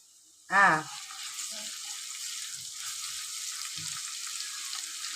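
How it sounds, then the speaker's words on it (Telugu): Onions and ginger paste fry in hot oil in a pan, giving a steady, even sizzling hiss that runs throughout after a brief voiced sound near the start. "ఇది కొంచెం సేపు ఇట్లా ఆయిల్లో అయితే ఫ్రై అయితే చేసుకోవాలి."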